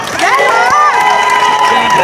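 A loud crowd at a beauty pageant's national costume event in Baclaran, Parañaque City, cheers, shrieks and whoops close by in a continuous, excited roar, with some clapping mixed in.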